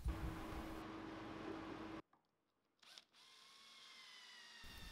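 A power drill bores and countersinks holes along the edges of a wooden workpiece, whirring loudly for about two seconds before cutting off. A brief quiet, a short clatter and a fainter whine follow.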